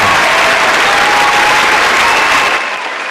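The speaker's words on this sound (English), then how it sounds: "Every one of y'all deserve a hand clap." Loud, close, continuous crowd applause and cheering that cuts off sharply near the end.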